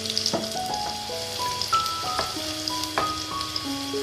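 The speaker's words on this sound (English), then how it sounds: "Once mustard starts spluttering, add chopped curry leaves to it. And as the curry leaves get fried, add finely chopped onion to it." Curry leaves and chopped onion fry in hot mustard oil with spluttering mustard seeds, giving a steady close sizzle dotted with sharp pops and crackles throughout.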